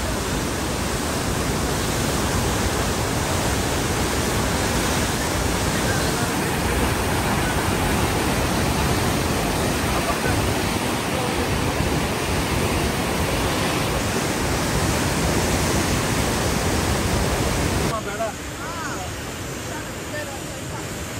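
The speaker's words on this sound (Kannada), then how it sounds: "ಅದು ಯಾವ ರೇಂಜಿಗೆ ನೀರು ಬರ್ತಾ ಇದೆ ನೋಡಿ" Water rushes at the KRS backwaters in a dense, loud, unbroken roar for about eighteen seconds, then drops abruptly to a softer, steady flow, with voices speaking over it.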